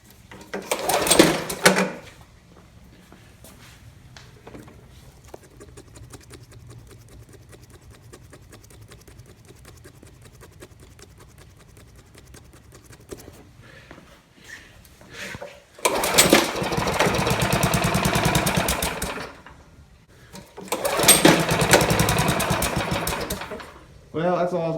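Engine of a 1987 Toro lawn mower: faint idle putter through the middle, bracketed by loud bursts of sputtering, rattling running close by.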